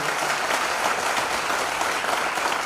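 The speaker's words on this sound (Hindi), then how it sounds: "एक बार मेरे माता पिता के लिए जोरदार तालियां बजा लीजिए दोस्तों" Vigorous, dense applause from a large audience at a company event, honoring a speaker's parents, a continuous wash of many hands clapping loudly at close range with no talk over it.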